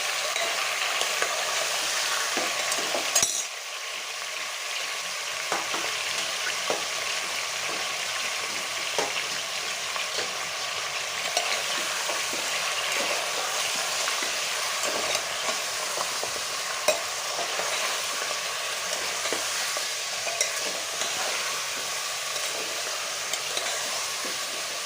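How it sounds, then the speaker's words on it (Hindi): Mutton pieces frying and being stirred in a pan, with a steady close sizzle and scraping, clinking stirring strokes running throughout, preceded by a brief louder clatter near the start. "गोश्त का कलर चेंज होने तक हम अच्छी तरह से चलाएंगे।"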